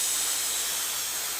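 A glue activator spray can lets out a steady, loud hiss in one continuous burst.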